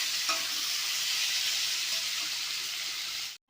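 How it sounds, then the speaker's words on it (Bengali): Chopped onion and tomato fry in hot mustard oil for a bhola fish curry, giving a loud, dense, continuous sizzle close by that cuts off abruptly near the end. "পেঁয়াজ কুচানো টমেটো কুচানোটা আমি ভালো করে ভেজে নেব আগে লাল লাল করে ভেজে নেবো"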